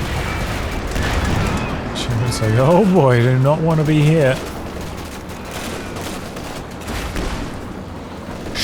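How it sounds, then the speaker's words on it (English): Artillery barrage in the real-time strategy game Company of Heroes 2, a dense rumble of distant explosions and shellfire rolling under a caster's excited commentary throughout. "There's the Scott getting a good barrage in."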